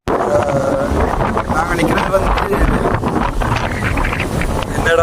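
Strong wind buffets the microphone in a steady roar near open water at a ferry jetty for Analaitivu island, with voices talking faintly underneath.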